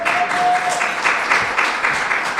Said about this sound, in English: give a clap, man